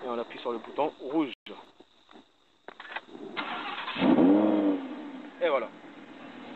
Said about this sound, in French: Je pense que vous voulez écouter le V10, donc on va démarrer le véhicule